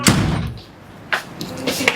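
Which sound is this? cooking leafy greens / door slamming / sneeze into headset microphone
door slamming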